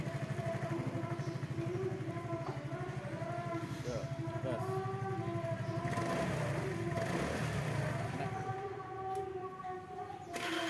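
A carbureted Honda Vario scooter engine with an ignition fault from a failing CDI idles steadily up close with a rough, pulsing putter, revving slightly partway through; faint voices murmur in the background.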